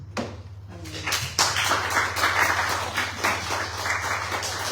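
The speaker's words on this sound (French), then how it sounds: "Est-ce qu'on peut applaudir?" A church congregation breaks into applause after a short pause, a steady patter of many hands clapping over a low hum, moderately near and continuing for several seconds.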